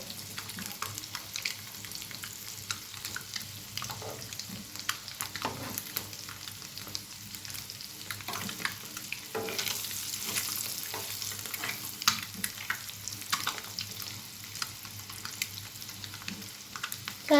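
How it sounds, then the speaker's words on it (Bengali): Eggs lightly frying in a pan give off a steady, soft sizzle with scattered crackles and occasional stirring scrapes, continuous and fairly faint, with no talking. "ডিপ ফ্রাই না করলেও সামান্য ফ্রাই করে নেবেন"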